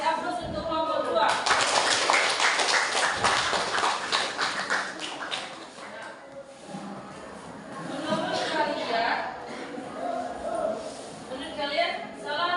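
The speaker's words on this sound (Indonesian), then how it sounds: "Coba kasih aplaus untuk kelompok 2." Classroom students applauding for group 2 in an Indonesian maths lesson: a burst of lively, scattered hand clapping that tapers off, with a teacher and students talking over and after it.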